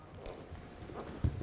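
A horse trotting and jumping in a riding clinic lesson gives soft rhythmic hoof clip-clops, a few steady beats ending in a heavier thud near the end, fairly faint at a distance.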